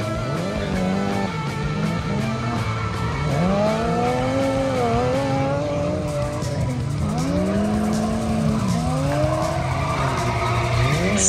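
A beat-up Suzuki kei truck drifting somewhere in rural America, its engine revving in long rising and falling sweeps while the tires squeal and skid almost without pause, loud and close.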